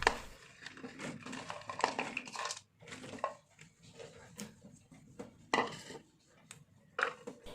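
Green chillies are snapped and cut for a tamarind chilli pickle, giving quiet, irregular crisp crunches and clicks with short pauses between them.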